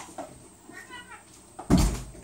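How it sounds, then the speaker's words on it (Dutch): One of two household cats meows loudly in a short burst near the end, after a quieter stretch of room noise, close to the listener. "Is een van de twee katten die er weer bij wil zijn."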